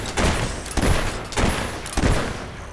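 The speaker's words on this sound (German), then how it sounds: "Jetzt schießen wir um die Steinecken." Gunfire from shooting in the video game Fable III, three heavy bursts of shots at roughly even intervals, loud and close, with no talk.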